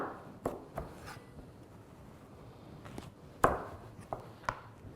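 A knife cuts a grilled-vegetable piece lengthwise on a board, giving a few sharp, close chops spaced irregularly over quiet room background.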